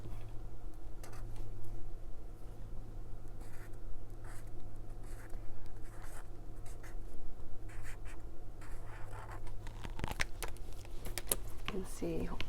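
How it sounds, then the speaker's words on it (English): Pen scratching on paper while writing a date by hand in a journal, soft and continuous close up over a low steady hum, with a brief louder rustle near the end. "So I'll write here November the 26th"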